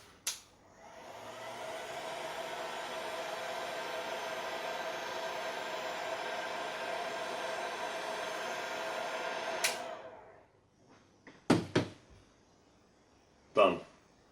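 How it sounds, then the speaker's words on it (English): A heat gun blows hot air steadily onto heat shrink tubing in a workshop, a loud, even whooshing drone for about nine seconds before it shuts off, followed by a few sharp handling knocks. "Heat gun, fantastic tool for doing anything in the workshop, particularly when it comes to electronics."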